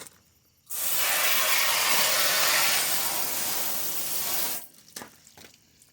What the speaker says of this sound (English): Let's rinse it off and see how it looks.